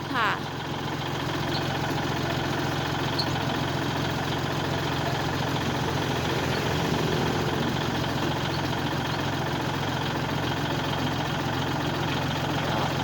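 A used Siam Kubota walk-behind tractor idles steadily nearby with a dense, continuous rumble and mechanical clatter. Someone talks over the engine.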